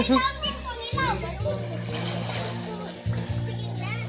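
Children play and splash in a small homemade swimming pool near a house, with water sloshing and kids' voices and chatter throughout, close and lively.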